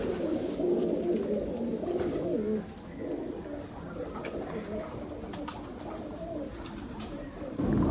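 Pigeons coo steadily and up close, their low, throaty warbles rolling over one another without a break, with faint rustling behind them.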